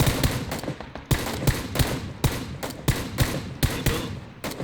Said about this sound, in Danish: Der bliver skudt ud fra højre.